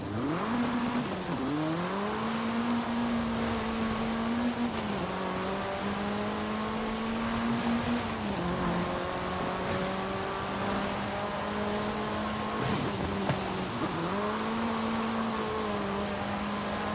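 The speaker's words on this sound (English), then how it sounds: "The race exhaust sounds a little raspy" A raspy race car engine in Forza Horizon 5 revs and drones continuously, pitch climbing and dropping with gear shifts, loud and close, with no voices over it.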